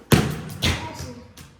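A football is kicked twice during shooting practice, each strike a sharp, close thud followed by a short bounce and fading rustle, with no talk over it.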